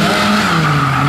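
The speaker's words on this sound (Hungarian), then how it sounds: "Todaró Zoliék érkeznek a kockalanával" A boxy Lada 2105 rally car arrives at a motorsport event with its tires squealing in a loud, sustained skid close by, engine tone sliding downward beneath the screech.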